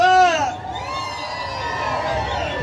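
Women give a loud, high-pitched collective shout at a dance party in Paso del Aguila. The sustained cry rises and sweeps down in the first half second, then settles into crowd noise and chatter.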